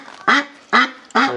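A duck being held for slaughter quacks three times in quick succession, loud, close and harsh, each call short and evenly spaced.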